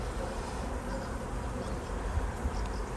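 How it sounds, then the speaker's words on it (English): Soft, continuous buzzing of honeybees around large hive towers in Devon, a low drone with faint outdoor rumble and a couple of dull bumps. "I can see there's bees all over them."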